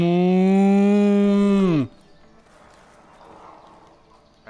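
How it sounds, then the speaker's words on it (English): A cow in the video game A Way Out gives one long, loud, near moo that ends abruptly, followed by quiet farm ambience with faint movement. "Hey, cows!"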